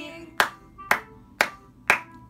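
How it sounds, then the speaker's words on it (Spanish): Hands clap four times at an even, moderate pace, each clap sharp and close, separated by quiet gaps with faint background sound. "puedo aplaudir"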